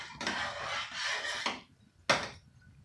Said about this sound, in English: But we gotta keep stirring.